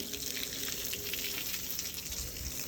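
Water spraying and splashing across a rooftop as it is rinsed clean, a steady broadband wash of hissing, gushing flow held at an even level for the whole stretch, with no talk.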